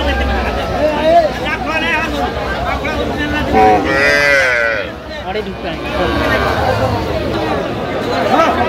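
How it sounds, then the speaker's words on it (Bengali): Cows with calves moo repeatedly at a busy Aftabganj cattle market, with loud bellows close by over a steady crowd babble and people talking. "গাভী বাছুর আমরা দেখছিলাম এখানে।"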